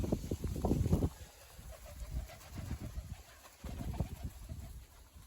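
Baku and Iranian pigeons coo in low, soft, repeated bursts at close range, with brief pauses between phrases and faint background hiss.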